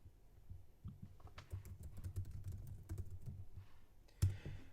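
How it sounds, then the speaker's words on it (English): Soft, quick key clicks from a computer keyboard as a command is typed into a terminal program, faint and irregular, with no talking. "Inside the command or terminal program, we type"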